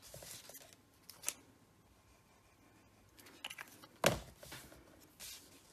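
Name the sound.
cutting the end off a paper strip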